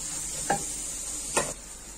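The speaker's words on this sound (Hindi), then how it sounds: "कुछ सेकंड के लिए मसालों को फ्राई कर लेंगे" Turmeric and other ground spices frying briefly in a pan for a mixed potato, carrot and pea curry: a steady low sizzle with two short scraping stirs of a spoon, close by, no talk.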